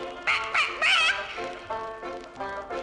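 A voice on a 1968 Disneyland children's record mimics a hen with a quick series of clucking calls, then continues with a few softer sung or spoken syllables.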